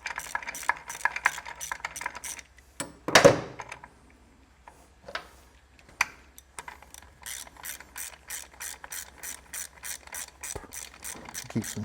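Ratchet wrench backing the rear brake adjuster nut off a 1994 Harley Softail, close and loud, with quick repeated clicking bursts at the start, a pause with a louder clatter, then a long steady run of ratcheting clicks.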